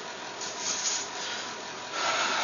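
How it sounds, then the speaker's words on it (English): A dough scraper drags across a baking pan of roasted spiced pumpkin seeds, giving soft, close, continuous scraping strokes that swell and fade, with a firmer pass near the end. "I used my dough scraper, and it worked out pretty darn good for reaching in here, making sure nothing's stuck to the bottom"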